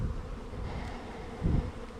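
Honeybees from a nucleus hive buzzing on a frame, a steady close drone with a low thump as the frame is handled.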